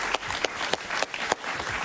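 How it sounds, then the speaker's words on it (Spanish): Studio audience claps for a journalist and author guest at the close of a Spanish-language TV interview, a brief run of steady applause with a few sharper individual claps standing out. "Un aplauso para Pablo, por favor."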